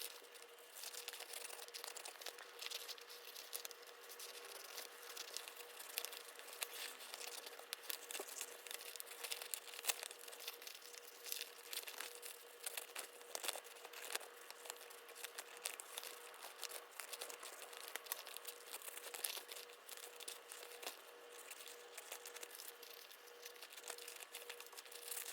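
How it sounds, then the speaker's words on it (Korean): Scissors cut through an eco leather pattern piece for a tissue case, making a soft, continuous crinkly rasping that stays faint and steady throughout, with no talking. "그러면 한번 가위로 이용해서 잘라보도록 하겠습니다"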